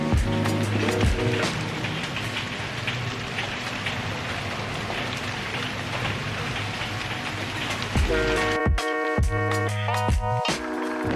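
Steady heavy rain hisses continuously, dense and close, with some tonal background sounds appearing near the end.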